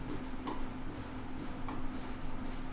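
Chalk or marker writing on a classroom board during a Class 12 maths lesson on relations and functions, a steady scratchy scribbling with short strokes and pauses, fairly close and heard on its own without talk.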